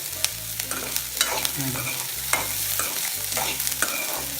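Onions sauté in a pan for a Nagercoil-style onion pachadi, with close, repeated spatula scrapes and stirs over a steady frying sizzle.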